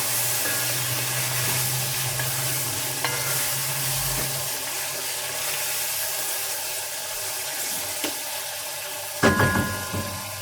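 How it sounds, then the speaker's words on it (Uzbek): Food sizzles steadily in a pot while it is stirred and shaken, with a few clanks of metal and a louder rattle near the end; nobody speaks. The dish is a homemade macaroni fry-up with carrot. "qozonni o'ynatib ovqat qilaman"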